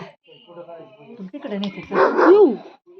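A dog barks a few times, close by, while people talk over it.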